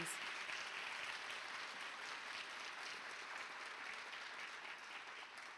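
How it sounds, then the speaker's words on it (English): Faint, even applause from an employee recognition night audience honors a school district's Board of Trustees, a steady patter heard from a distance without voices on top. "If you all would join me in a round of applause for our Board of Trustees"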